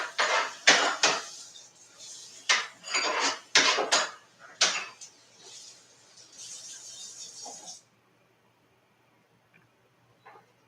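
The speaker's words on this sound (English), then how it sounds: "Let me rinse off this cutting board very quickly" Kitchen sink clatter while a cutting board is rinsed before chopping mushrooms: a string of loud, close knocks and scrapes of board against sink and dishes with running water, ending in near silence.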